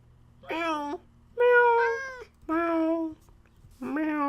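A human voice imitating a cat, producing four drawn-out meows with short gaps between them, close and clear against a quiet low hum.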